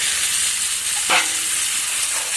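Chicken, new potatoes and tomato sizzle steadily in a pan for a yogurt chicken kosha, a close, even hiss of frying with a brief stir or clatter in the middle.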